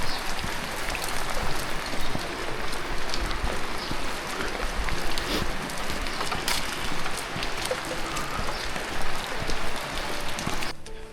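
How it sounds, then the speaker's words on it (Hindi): Steady, dense rain hissing down across a broad band in Kashmir, continuous and fairly loud throughout, stopping abruptly just before the end. "तो बारिश सुबह से ठीक ठाक हो रही है यहाँ पे"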